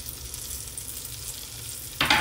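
Pierogies frying in a pan over medium-high heat, a steady close sizzle with a sudden louder crackling burst near the end.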